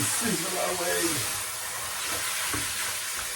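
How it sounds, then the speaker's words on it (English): Pumpkin chicken curry sizzles steadily in a hot pan, a continuous bright hiss with faint clatter of stirring underneath. "Go on, sizzle. If you want, sizzle away."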